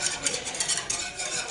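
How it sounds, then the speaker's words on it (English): Banana pudding custard with egg yolks is stirred in a pot, giving a brief, continuous soft scraping swish close up. "you want to constantly stir"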